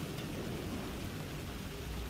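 Rain pours in the video game Alan Wake 2 as a dense, even hiss with a low rumble underneath. It is faint and steady throughout, with no voices over it.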